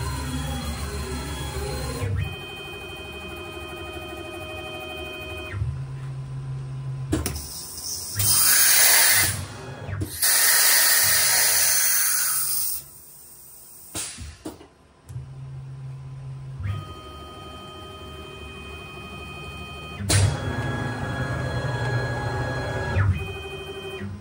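A CNC router's automatic tool changer swaps tools on a PrintNC Pro, with a whining spindle ramping down and up, hissing air blasts, and mechanical clunks and steady tones, loud and close.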